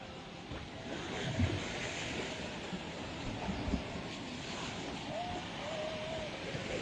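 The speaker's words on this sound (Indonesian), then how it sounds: "Ini ombak juga Tribuners, kencang ombak." Steady roar of strong surf and wind at a damaged seawall on Takkalasi beach, with rushing wave noise throughout and a few faint tonal whistles near the end.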